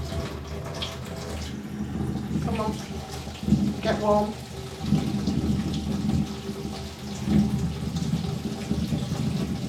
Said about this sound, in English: we are going to be running some hand hot water